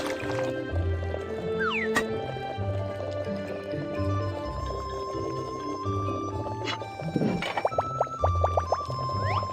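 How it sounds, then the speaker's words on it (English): Cartoon cooking sounds from an animated game as tea eggs boil and are stirred in sauce: bubbly, liquid squelches and drips over a light tonal music bed, with a few bright sparkle effects near the end. "Let's start boiling the tea eggs. Stir the eggs around so they soak up all the flavor."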